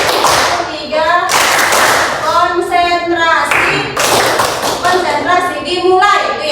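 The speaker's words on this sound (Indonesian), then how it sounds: "Tepuk 1, tepuk 2, tepuk 3." Classroom of children clapping a rhythmic cheer in short bursts of hand claps, close and loud, alternating with chanted voices counting along between claps.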